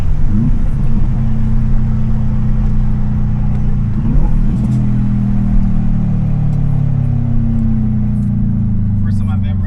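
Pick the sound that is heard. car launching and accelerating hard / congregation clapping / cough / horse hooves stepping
car launching and accelerating hard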